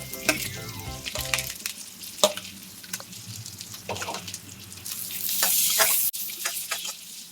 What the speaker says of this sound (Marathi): छान ब्राऊन कांदा परतवून घ्यायचा आहे